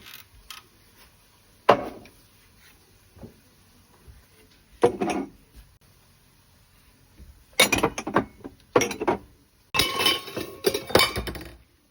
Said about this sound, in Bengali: হাড়ি পাতিল কিছু ধুইছিলাম এগুলা দেখি ভিতরে রাইখানি